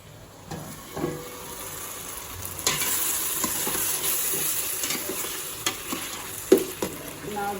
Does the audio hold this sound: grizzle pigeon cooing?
no